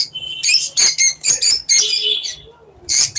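Lovebirds in a Bangladeshi bird seller's shop chirp in loud, bright bursts, several quick calls in a row with short gaps, close by and unaccompanied by talk.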